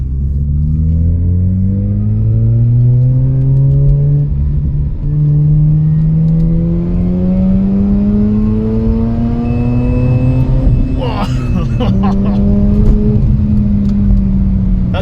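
A Mazda RX-8 rotary engine, heard loud from inside the fairly well-insulated cabin, revs in one long smooth climb to about 8000 rpm, its whine rising steadily for roughly eleven seconds before a gear change.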